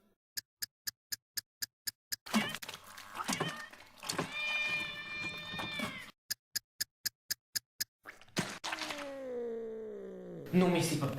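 A cat yowls and meows in a comedy film scene, its drawn-out cries set between crisp, evenly spaced clock-like ticks, with voices and other scene sounds mixed in.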